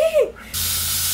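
Helium gas hissing from a tank valve while balloons are filled, a steady loud hiss that starts abruptly after a short voice.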